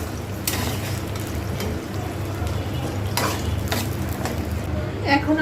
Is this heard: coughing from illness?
no